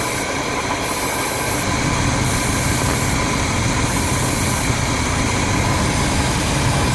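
An RV engine with a carburetor air leak runs steadily and loudly throughout, a continuous low mechanical drone with a rough, uneven texture suggesting occasional backfiring, and no talking.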